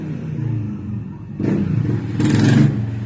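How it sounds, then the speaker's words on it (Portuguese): A motorcycle passes nearby on a street, its engine rumble and rasp swelling in two loud surges over a few seconds above a steady traffic hum. "Pera que vai passar uma moto."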